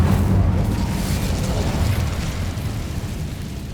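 A fiery Incendio spell bursts in Hogwarts Legacy with a deep, loud rumbling blast that starts strong and slowly fades over a few seconds.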